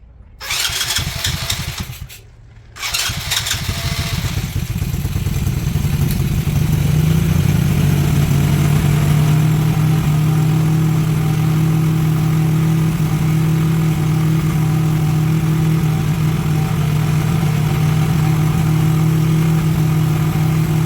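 A small pocket bike engine, just restored and running after its first start-up. It catches after a couple of sputtering attempts, then settles into a loud, steady buzzing idle close up, with no talk.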